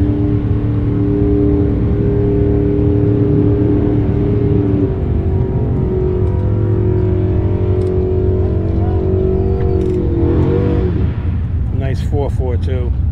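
Loud, steady engine rumble from an Oldsmobile 442 drag car at a drag strip, holding a deep tone before the revs climb and shift near the end, with brief voices nearby.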